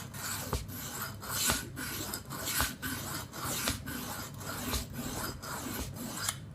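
A knife blade is rubbed back and forth across a sharpening stone in a steady rhythm of about eight rasping strokes, close and fairly loud, with no talking.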